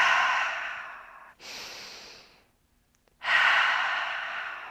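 Slow, deep breaths during a high crescent yoga lunge, a long loud exhale, a shorter one, a pause, then another long audible breath, close and alone.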